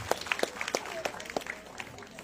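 Short patch of audience clapping at a Tamil debate event held for a youth association's anniversary function, scattered quiet claps heard faintly with a voice nearby.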